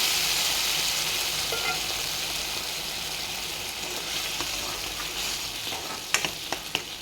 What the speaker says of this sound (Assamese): এতিয়া ইয়াতে মাটিকাদুৰিখিনি দি দিছোঁ।